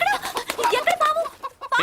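A hen clucks repeatedly in short, close, fairly loud bursts of rising and falling calls, an outdoor farmyard bird in winter, with no speech.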